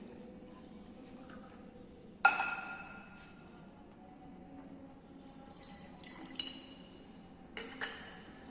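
Distilled water is poured into a glass conical flask holding magnesium sulfate, a gentle trickling pour marked by a sharp glass clink early on and a few more clinks near the end.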